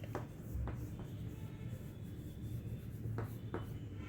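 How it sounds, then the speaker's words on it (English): Pen or marker strokes on a surface in a quiet room, a few short scratchy bursts with pauses between them, fairly faint. "I'll write"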